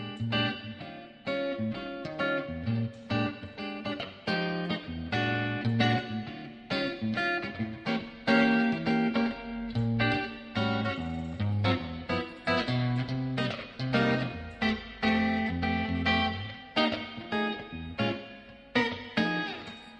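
An electric guitar runs through the clean valve channel of a Fender Super Champ XD amp with a touch of digital reverb, playing a busy, rhythmic line of plucked chords and notes, close and clear.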